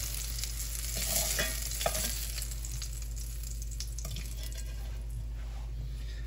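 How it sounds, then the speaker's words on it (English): Garlic cloves and pearl onions sauté in a pan for a pork roast braise, a soft steady sizzle under a low hum, broken by a few stirring scrapes and clinks. "I will add 4 cloves of garlic. Saute this until it becomes aromatic."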